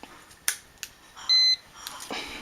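A handheld voltage tester beeps at a backwards-wired household electrical outlet near a test bench: one sustained electronic tone of about a quarter second, close and clear, between faint clicks and handling noise.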